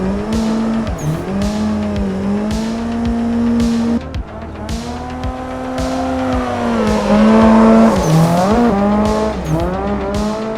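A car drifts in Assetto Corsa EVO, its engine droning at a steady pitch with revving rises and dips as the throttle is adjusted, while the tires squeal and skid continuously; no voices.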